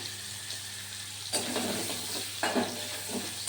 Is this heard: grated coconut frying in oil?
yes